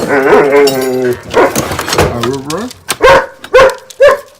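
A person talks briefly, then three short, punchy barks or bark-like woofs follow in quick succession, loud and close.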